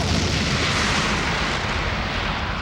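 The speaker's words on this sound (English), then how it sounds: "So they blow up the ship while they're all kind of standing there" Photon torpedoes blowing up a ship in Star Trek: The Next Generation: a loud, sustained explosive roar with dense rumbling bursts filling the whole stretch, steady and close, with no voices.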